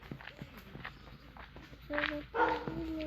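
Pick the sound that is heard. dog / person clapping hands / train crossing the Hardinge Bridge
dog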